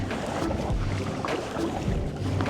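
Soft splashes and swishes of kayak paddles dipping into water, with gusts of wind buffeting the microphone on the open Takhini River in Yukon.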